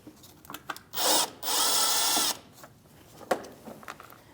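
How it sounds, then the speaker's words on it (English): A power drill with a 7mm socket whirs in two short bursts, the second longer and steadier, while removing screws from the left engine splash shield of a Chevrolet Malibu, followed by faint clicks and handling noises. "I'm going to take all the screws out first."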